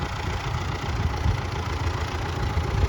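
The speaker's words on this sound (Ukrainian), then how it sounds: "Культиватор, коротше, важко тягати трактору." A tractor engine drones steadily while pulling a cultivator over uneven ground in a field prepared for spring barley, a loud continuous low rumble with a slight rhythmic labouring throughout.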